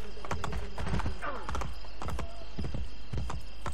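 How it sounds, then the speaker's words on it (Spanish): Rapid rhythmic hoofbeats of a galloping horse in Assassin's Creed Brotherhood, clip-clopping close and steady with a brief whinny mixed in. "En teoría vamos más rápido a caballo, ¿no?"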